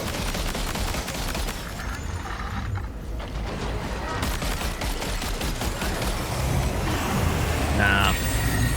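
Rapid gunfire from vehicle-mounted guns aimed at a BT in Death Stranding 2, a dense stream of quick shots mixed with mechanical rattling and engine rumble, continuous and fairly loud, with a voice talking over it.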